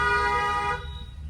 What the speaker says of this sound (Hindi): माता जी को हॉर्न दो